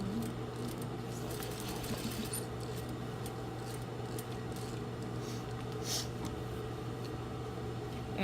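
A sewing machine stitches a straight seam on a shirt sleeve placket, humming quietly and steadily close by with small clicks and ticks over the continuous motor drone.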